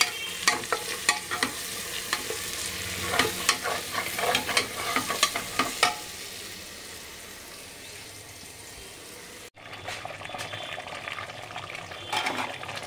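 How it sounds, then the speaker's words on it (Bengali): Chicken with potatoes and spices stir-fried in ghee, a spatula scraping and turning the pieces with sizzling underneath in a rapid burst of strokes, then a quieter steady fry after a brief cut. "আর একবার কষাবো, একটু নাড়াচাড়া করে নিচ্ছি।"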